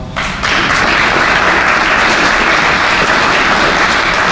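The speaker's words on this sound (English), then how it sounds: "Can we give them a round of applause?" Loud, dense audience applause for council members at a facility grand opening, starting abruptly and holding a steady, close wall of clapping to the end.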